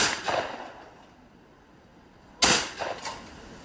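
A shotgun fires at a clay pigeon shooting ground. One sharp, loud blast rings out after a quiet pause, followed by a couple of fainter echoing cracks and clatters, with no voices.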